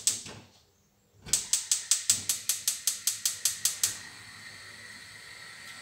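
A kitchen gas stove burner is lit with its igniter: about a dozen quick, evenly spaced clicks come close and clear after a brief silence, then a soft steady hiss continues alone.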